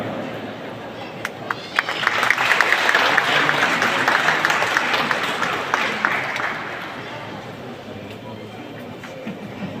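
A crowd claps loudly for Kerala Chief Minister Pinarayi Vijayan as he comes onto the stage at a Blood Donor Day event. The applause swells and fades over several seconds, with a voice heard faintly underneath.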